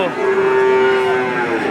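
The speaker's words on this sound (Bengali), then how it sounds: "এটা সিন্ধি জাতের না তো পাকিস্তানি সিন্ধি জাতের একটা ষাড় গরু" A Pakistani Sindhi bull at a cattle market lets out one long, loud moo close by, holding steady for over a second before fading.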